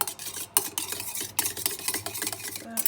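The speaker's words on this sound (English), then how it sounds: "So just keep stirring that round." A spoon stirring coconut oil as it melts in a pan: close, repeated scraping strokes with light metallic clinks and a faint sizzle in short uneven bursts, with no voices.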